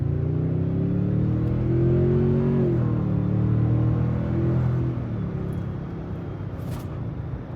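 A $90,000 Toyota luxury SUV pulls away from low speed, its engine note rising smoothly in pitch, dipping briefly at a shift, then settling into a steady, muted cabin hum.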